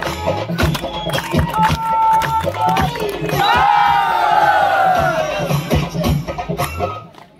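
A crowd at the opening of a local cricket premier league claps and cheers loudly, rhythmic clapping swelling into sustained shouting and whistling, then trailing off.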